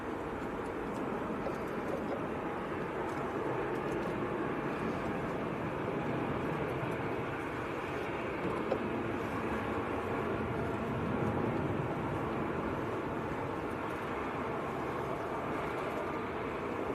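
Qatar Airways Airbus A350 airliner at Manchester Airport, a steady broadband jet roar held at constant loudness throughout, no distinct rise or fall, with no voices.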